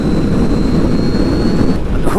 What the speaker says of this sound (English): There's a lot of just wind up here